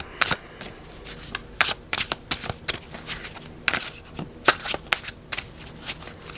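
A deck of tarot cards being shuffled close up, with a steady run of crisp riffling slaps and flicks in an irregular rhythm, no talking.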